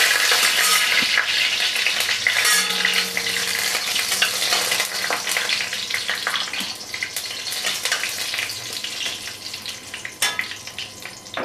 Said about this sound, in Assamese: তেলখিনি গৰম হৈছে। এতিয়া ইয়াতে মই শুকান জলকীয়া 2টা দি দিছোঁ।